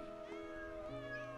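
A cat meows in a tabletop role-play session, a single clear drawn-out meow with a rising then falling tone, fairly close and alone without talk.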